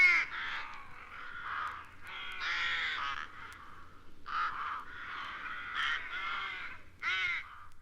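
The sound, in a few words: English rook calling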